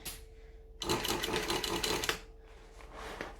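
A cylinder arm sewing machine stitches through a bag, a burst of rapid, steady mechanical clatter lasting over a second, close and loud against a quiet hum.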